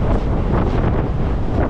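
Waves and strong wind batter a ferry under way, a loud continuous roar of wind buffeting the microphone over surging water, close and unbroken with no voices.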